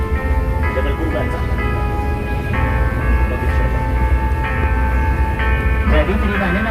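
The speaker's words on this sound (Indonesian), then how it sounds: "ini yang di atas kita ini adalah kereta api" Loud rumble and clatter of a train running on elevated track overhead near the Jabal Qurban monument in Mina, steady and close throughout, with a person talking over it.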